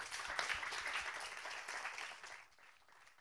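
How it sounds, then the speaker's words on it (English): An audience applauds panelists after a housing discussion, a fairly faint, even patter of clapping that thins out toward the end. "I would invite you to give them a round of applause."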